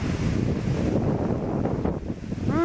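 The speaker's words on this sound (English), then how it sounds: "Ooh, there's the wind." Strong wind blows outdoors across snowy ground beside an old retaining wall, a steady, loud roar buffeting the microphone throughout, with a brief tonal whine near the end.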